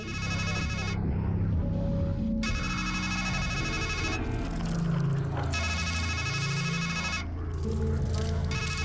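A phone rings in the video game Strangeland, an electronic ringtone repeating in long bursts with short gaps, over eerie low droning ambience.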